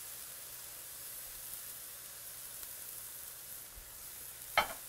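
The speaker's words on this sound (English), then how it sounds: "Stir this all around," Venison stir-fry with soy and hoisin sauce sizzles quietly in a pan, a steady soft hiss running throughout with a brief utensil clatter near the end.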